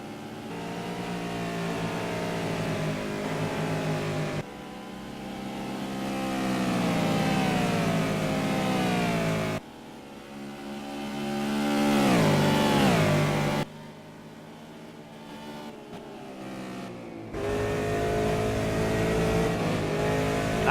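Race cars in the Simraceway racing video game roar through a close, loud run of engine revving. Rising pitch sweeps are cut off by abrupt gear changes and throttle lifts, with no talking.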